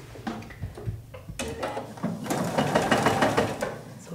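A sewing machine stitches a seam on a flannel shirt cuff, starting with a few hesitant clicks before running into a steady, rapid mechanical whir close by.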